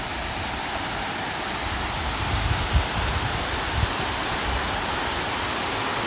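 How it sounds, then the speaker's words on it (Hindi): Bijakasha waterfall in Bastar heard from a viewpoint above, a dense, steady roar of falling water filling the whole clip, constant and unbroken, with faint rustling. "यहाँ से वाटरफॉल दिख रहा है नीचे"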